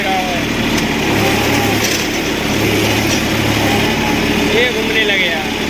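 A tractor engine runs steadily nearby while a worn tyre spins in place on loose waste, a continuous droning hum with faint whirring; a voice talks over it.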